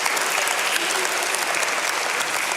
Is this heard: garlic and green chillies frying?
no